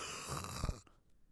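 A person imitates snoring with one rough, rasping inhale lasting under a second, close and fairly quiet, then stops short.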